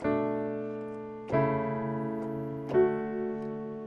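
Piano chords of thirds played with both hands ring out in sustained harmonic layers, with two fresh struck attacks partway through, each left to decay; no talking.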